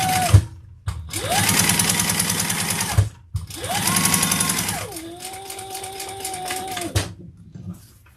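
A sewing machine stitching fabric flat runs in three bursts: two fast, loud, steady runs with a brief pause between them, then a slower, lower-pitched stretch, heard up close.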